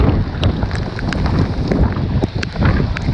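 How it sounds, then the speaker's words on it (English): Heavy monsoon rain and strong wind hit a fishing boat, producing loud, rough, gusty noise buffeting the microphone, with scattered sharp patters and knocks throughout. "it's really raining, really windy."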